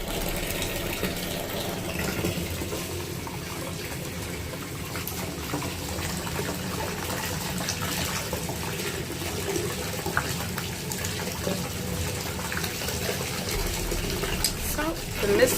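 Hot bath water gushes steadily from a tap into a tub filling with a glittery bath bomb, a continuous rushing splash throughout with faint speech in the background.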